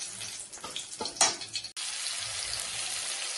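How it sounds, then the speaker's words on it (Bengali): Spices sizzle as a tempering fries in oil in a pan, a steady close crackling hiss after some clinks and stirring sounds. "ফোড়নটা একটু ভালো করে না ভাজলে ঠিক হয় না।"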